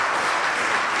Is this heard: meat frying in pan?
no